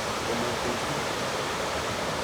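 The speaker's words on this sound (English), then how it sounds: "This is the slave river." Broad steady rush of flowing river water at the slave river in Assin Manso Ancestral Slave River Park, a continuous even wash of noise with no talk over it.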